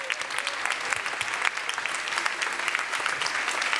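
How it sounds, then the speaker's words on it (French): A large audience at a national three-minute thesis competition final claps long and hard for the contest candidates, dense steady applause that holds at full strength throughout. "On les applaudit très très fort."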